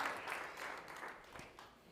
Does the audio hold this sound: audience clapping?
yes